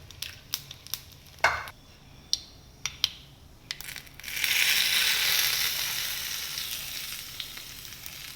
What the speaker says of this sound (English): To this I am adding some mustard seeds and urad dal.